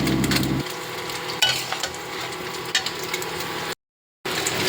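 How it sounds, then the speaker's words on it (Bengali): Vegetables being stirred in a pan with mustard and poppy seed paste: a loud opening sizzle fades into soft scraping and stirring with occasional utensil knocks, followed by a brief silent gap. "আর এই সবজিগুলো অ্যাড করে ওর মধ্যে সর্ষে আর পোস্ত বাটাটা দিয়ে হালকা করে নাড়িয়ে চালিয়ে নিয়েছি"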